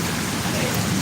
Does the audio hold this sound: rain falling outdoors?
yes